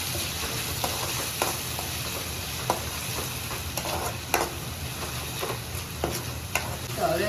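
Chopped onions go into a hot pan for an okra dish and sizzle steadily while a spoon stirs them, with sharp clicks and knocks against the pan at irregular intervals.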